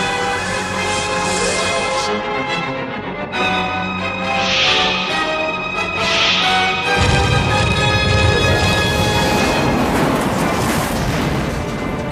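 A massive planetary explosion in a science-fiction space drama, a loud, sustained roaring blast layered with rumbling booms and dense, swelling noise that fills the whole stretch and grows heavier toward the end, with no voices.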